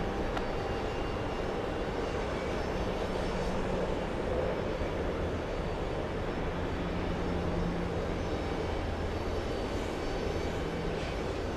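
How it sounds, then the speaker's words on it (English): An Airbus A321 jet airliner takes off, its engines producing a continuous, loud, broadband roar that holds steady throughout, heard from a distance with no voices over it. "We have an A321 about to take off."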